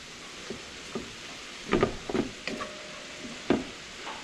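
Onions and peppers sauté in a pan for Cuban oxtail, a low background sizzle broken by several close scraping stirs and clacks of a utensil.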